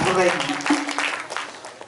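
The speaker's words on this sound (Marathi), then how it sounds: "टाळ्या वाजवा" An audience claps together during a lively Marathi kirtan by a performer. The broadband applause runs through the whole moment while a voice carries over it.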